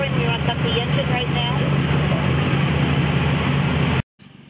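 A Corvette engine idles loudly and steadily close by, a continuous low rumble with a slight rhythmic throb, with a voice talking over it until it abruptly cuts off near the end.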